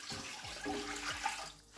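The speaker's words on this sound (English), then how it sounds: "And then you pour water" Water poured into a cooking pot fitted with a pot stand and a foil base, ready to steam Nigerian moi moi in tins; a short, close splashing pour that runs steadily for under two seconds, alone without talk.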